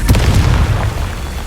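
A Confringo fire spell blasts in Hogwarts Legacy as a loud, close boom with a sharp onset, then a rumbling low tail that lingers for over a second.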